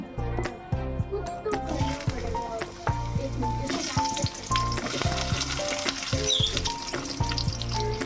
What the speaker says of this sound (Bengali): মাছ ভেজার তেল আছে সেই তেলে আমি এবার আলুগুলো ভেজে নেব